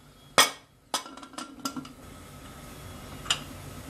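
A steel pressure cooker lid is set and locked onto the pot after water is added, cooking Memon-style halisa: one sharp metallic clank, a second clatter with a few lighter clinks, then a faint clink near the end.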